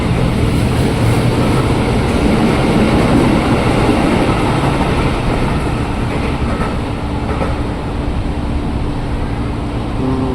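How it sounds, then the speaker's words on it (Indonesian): A KRL commuter train pulls out of the station, close and loud. A heavy rolling rumble and clattering wheels continue throughout, with no voices. "KRL-nya berangkat."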